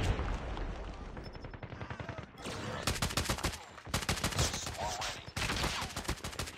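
Rapid bursts of gunfire from the Destiny video game, loud repeated volleys crackling close by in clustered runs, with short gaps between the bursts.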